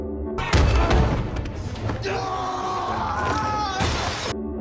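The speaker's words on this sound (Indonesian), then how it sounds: "dia mampu menghempaskan seorang petugas hingga menghantam kaca" In a film scene, a guard is hurled into glass, giving a loud crash and shattering burst amid thuds and action noise, with chaotic sound continuing throughout.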